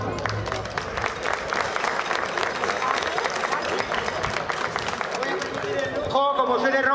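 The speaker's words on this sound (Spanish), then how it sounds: "Un aplauso para Lucano" Applause from a crowd fills the space at an outdoor historical reenactment of the ancient world in Villena, dense clapping with cheering voices mixed in, ending with a brief swell of louder sound near the end.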